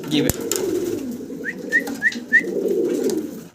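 A pair of fancy exhibition pigeons gives a few short, soft coos in quick succession against steady low background murmur, with a brief sharp knock near the start.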